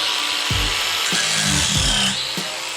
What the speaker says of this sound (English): So I gotta grind this all off flat